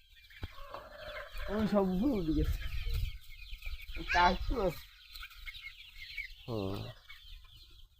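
Desi chickens on a small farm cluck and squawk in short separate bursts with quiet gaps between them, fairly close, and a brief murmur of a voice is heard.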